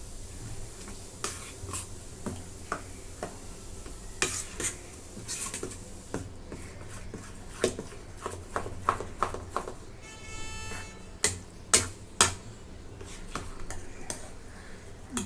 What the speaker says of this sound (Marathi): आता हे सगळं मिक्स करून घेते रवा आणि हे डाळीचं पीठ एकजीव करून घेऊया